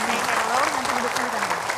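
A studio audience at an Indonesian television talk show applauds continuously in dense, even clapping, with a voice talking over it.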